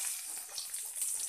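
Onion fries in a pan with a thin, steady sizzling hiss that stays fairly quiet, with no voices.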